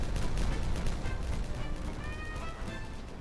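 Dynamite charges detonate in a mining-and-building video game, a dense rumbling roar of blasts that hits loud at the start and slowly decays, with faint high ringing tones trailing in the second half.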